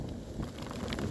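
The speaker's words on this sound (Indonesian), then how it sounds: "ini hujannya makin deras nih" Heavy rain pours down outdoors during a motorcycle tour in Central Java, a dense continuous rushing wash with wind-like buffeting on the microphone, steady and fairly soft, with no talking.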